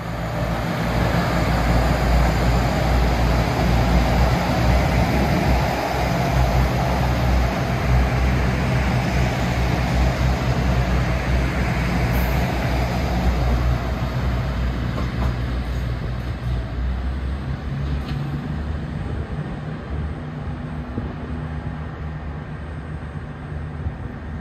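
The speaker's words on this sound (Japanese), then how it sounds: "岐阜方面から特急ワイドビュー飛騨9号がやってきました。" The Limited Express Wide View Hida 9 train arriving on the Takayama Main Line rumbles steadily close by, a broad loud roar of wheels and engine that holds for the whole stretch and eases slightly toward the end.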